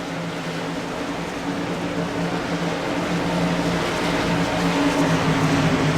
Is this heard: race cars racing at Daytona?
yes